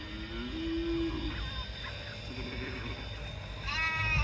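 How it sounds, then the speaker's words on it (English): A few short bleats ring out from sheep in a field, fairly near, over a steady low hum of outdoor background noise. "Sheep in the field."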